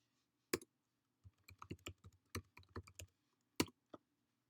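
Typing on a computer keyboard: a short, quiet run of a dozen or so close key clicks in an uneven rhythm, with brief pauses and no talking.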